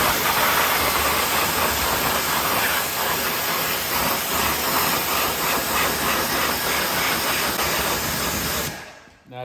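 A loud, continuous hiss of a pressure washer spraying water over a ceramic-coated car's door jambs, wheel arches and wheels, droning evenly throughout before cutting off at the end, with no talking.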